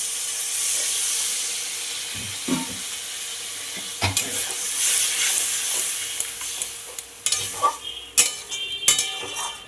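Warm water poured into a sizzling pan of fried sole fish curry masala, a hissing, steaming burst with clinks of a spoon and stirring scrapes that grow busier toward the end.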